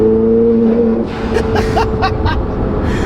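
A twin-turbo Corvette C8 Z06 engine in sport mode drones and climbs as it accelerates, with a faint turbo whistle and whooshing rising over the close, steady rumble.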